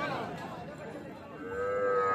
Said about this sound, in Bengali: আজকে যেহেতু হাটে বাছুর এসছে